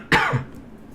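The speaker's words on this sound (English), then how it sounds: "And I apologize for the coughing." A single sharp cough, close and fairly loud, bursting out at once and trailing off into quiet room noise, with no talk around it.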